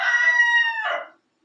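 A rooster crows once, loud and close, a single drawn-out cock-a-doodle-doo ending abruptly in silence.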